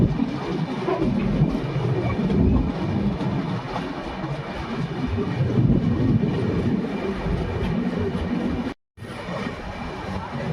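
An overnight express train, the Bhagat Ki Kothi–Visakhapatnam Express, pulling into Baran railway station with a loud, continuous rumble of wheels and carriages, steady clatter, and a brief dropout near the end.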